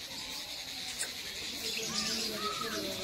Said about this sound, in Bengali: শুধু পাখির চেঁচামেচির আওয়াজ শুনতে পাচ্ছ বিভিন্ন ধরনের পাখি আছে